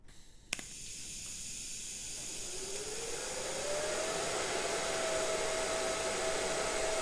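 A TIG torch fitted with a gas lens starts with a sharp click, then a steady hiss and buzzing arc builds and holds while welding a custom stainless steel exhaust, close and continuous.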